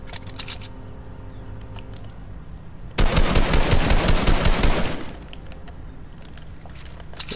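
Combat pistol gunfire in a video game, a loud, dense burst of rapid shots lasting about two seconds, with faint scattered clicks before and after and no talking.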